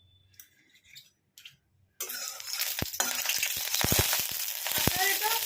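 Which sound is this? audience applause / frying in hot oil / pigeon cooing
frying in hot oil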